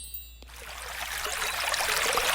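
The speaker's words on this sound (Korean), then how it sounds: "어디선가 물소리가 들렸어요." Water trickling as a sound effect, a soft bright wash that rises steadily after a faint ding at the start.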